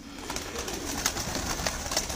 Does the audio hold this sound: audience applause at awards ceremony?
no